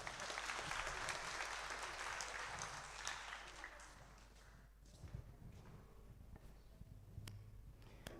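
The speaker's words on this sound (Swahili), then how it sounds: "Tuwapigie makofi." Congregation applause for the choir at a Kikuyu church service on Choir Day, a dense burst of many hands clapping that slowly thins into scattered claps and faint room noise.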